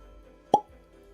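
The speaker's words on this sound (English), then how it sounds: "Wow, that was a good cork pop." A cork pops out of a newly opened Glendronach whisky bottle, giving a single short, close, crisp plop in a quiet room.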